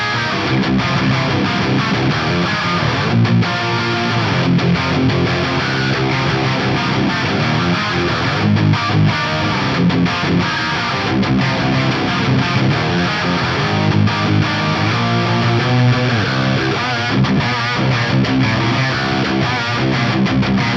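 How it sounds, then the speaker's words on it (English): Distorted, low-tuned electric guitar playing continuously and loudly through a Meris Mercury 7 pedal set to an ultra plate reverb, with a dense washed sustain. "It's a really, really sweet sounding reverb."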